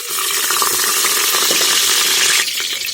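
Garlic fries in oil in a pressure cooker, a loud, close, steady sizzle with a crackling hiss that eases slightly near the end.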